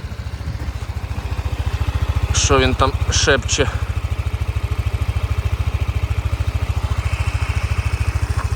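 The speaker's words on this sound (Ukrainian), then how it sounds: "Давайте послухаємо двигунчик" A Yamaha NMax 125 ABS scooter engine idles steadily up close with an even, rapid putter, while a voice briefly speaks over it partway through.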